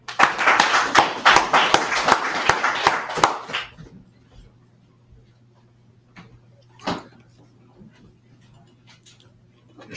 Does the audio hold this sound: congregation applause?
yes